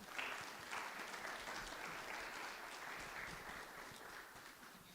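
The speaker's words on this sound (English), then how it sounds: "How about one more hand of applause?" Steady, dense applause from an audience honoring orientation and mobility program graduates at a Guide Dogs for the Blind graduation ceremony, sustained and even for the full stretch with no talk over it.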